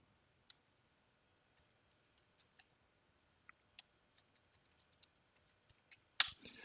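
A web address is typed on a computer keyboard as a string of faint, sparse key clicks spread unevenly over several seconds in a quiet room, ending with a slightly louder final keystroke.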